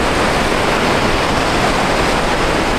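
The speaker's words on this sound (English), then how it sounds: "Just listen to the ocean." Ocean surf rolls onto a calm beach at Newport, Oregon, a loud, continuous broadband wash of waves with no break and no voices.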